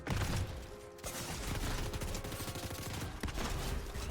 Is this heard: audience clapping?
no